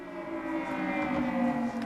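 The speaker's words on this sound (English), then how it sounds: "air raid sirens have sent people scurrying for cover, time after time after time" An air raid siren wails continuously over Kuwait City, a steady sustained tone heard from a distance and sitting fairly loud throughout with no voices present.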